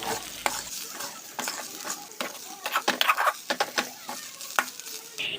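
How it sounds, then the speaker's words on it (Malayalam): Masala pasta spice mix stirred in a hot pan over a raised flame, with a steady sizzle and repeated scraping clinks of the spoon against the pan, close and busy, no talking. "ഇനി ഫ്ലെയിം നമുക്ക് കൂട്ടി വെച്ചിട്ട് ഇത് മിക്സ് ചെയ്യാം"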